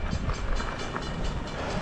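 A train rolls past a railway crossing as a steady, dense rumbling roar, close and continuous throughout with no voices.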